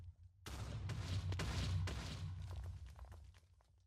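A TNT block with mini TNTs attached detonates in Minecraft. After a short silence comes a loud blast and then a quick string of further bangs that fade into rumbling debris. No one speaks.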